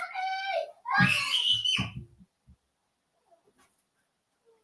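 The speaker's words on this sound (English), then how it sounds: "they're screaming like it's the end of their life" Young children scream and wail loudly for about two seconds in a tense burst, then the sound cuts off and near-silence follows.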